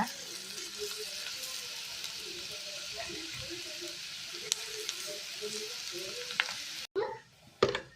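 Onion and potato frying in a pan, a steady close sizzle with small pops and soft stirring, then a few louder clatters near the end.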